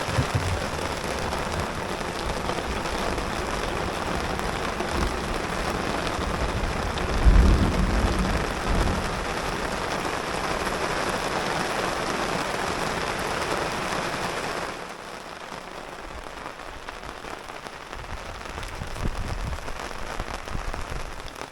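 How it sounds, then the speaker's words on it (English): Steady heavy rain pours down on a campsite during a thunderstorm, a dense continuous hiss with a low thunder rumble around the middle, then the rain softens slightly toward the end. "We just made it into camp in time because thunderstorms all around us here."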